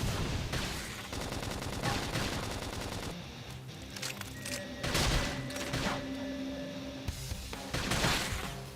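Dense rapid gunfire and explosive bursts from a battle in Xenoblade Chronicles X, loud and continuous with repeated heavy impacts layered over game music and effects.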